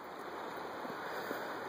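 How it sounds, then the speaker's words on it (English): The Kennebec River in Maine flows past a roadside spot, a steady, soft rushing wash of water with faint low rumbles, heard alone with no voices. "This is the Kennebec River."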